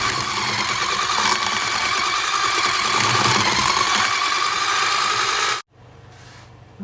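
An electric mixer whips a keto ice cream base made with monk fruit sweetener, a steady close motor whir that holds for several seconds and then cuts off abruptly into quiet.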